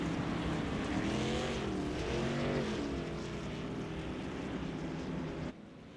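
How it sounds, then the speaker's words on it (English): Racing trucks on the Eldora dirt track roar loudly and continuously, several engines overlapping with rising and falling pitch as they pass, the noise dropping away abruptly near the end. "Quite a bit of trucks there beating and banging."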